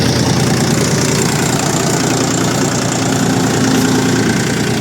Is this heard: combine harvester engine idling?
yes